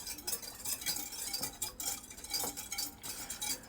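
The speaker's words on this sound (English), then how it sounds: "we'll just whisk all that together" Whisk scraping and clinking rhythmically in a container as honey is stirred into a beet tonic, a steady run of quick metallic strokes close by with no talking.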